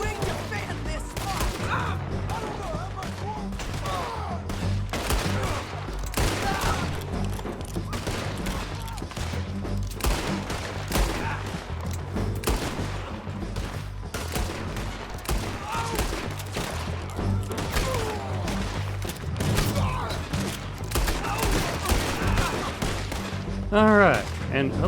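Dense, sustained gunfire in the video game Red Dead Redemption 2, loud overlapping shots and bursts running continuously with no pauses.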